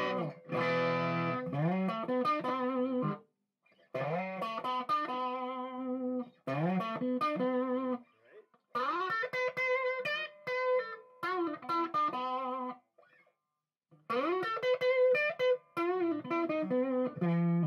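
A Gibson Les Paul electric guitar on the bridge pickup with its tone control rolled back gives a fat, warm, slightly driven tone as bluesy single-note phrases and bends are played, broken by short pauses, with no talking.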